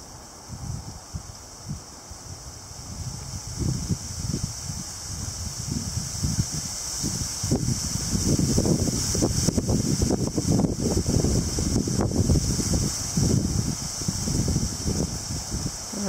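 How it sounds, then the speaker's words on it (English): Gusty post-frontal wind blows across an outdoor microphone, a steady roar that swells into heavier buffeting gusts toward the middle and end, loud and close, with no talk. "It's a little windy."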